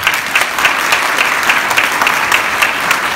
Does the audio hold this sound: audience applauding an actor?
yes